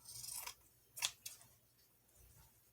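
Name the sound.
trimming material for a journal cover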